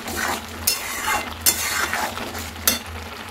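Carrot halwa being stirred in a pan near the end of cooking, a spoon scraping and clinking against the metal in a few distinct knocks over a soft sizzle, close and clear with no talking.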